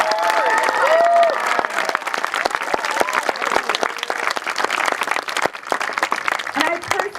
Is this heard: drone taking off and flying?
no